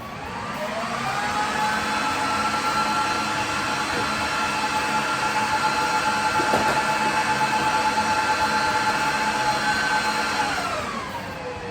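The small fans of a 1U datacenter server roar at high speed during its power-on self-test. The steady, loud, whining rush carries shifting tonal pitches that rise and then settle, with no talking.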